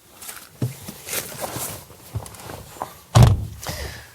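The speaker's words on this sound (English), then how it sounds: "Let's pull back the frameless door and take a look inside" A frameless door on a Mini Electric car being pulled open, with soft handling clicks and a solid close-range thunk of the door latch near the end.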